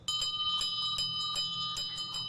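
A small bell rings repeatedly in a quick, steady rhythm, bright metallic strikes with lingering tones over a quiet background.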